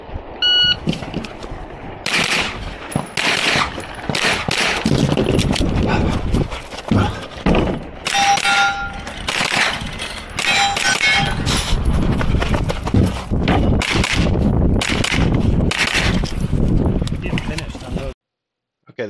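Pistol-caliber carbine shots fired at a practical shooting match stage, with rapid loud reports and metallic hits on steel targets, mixed with voices and outdoor noise.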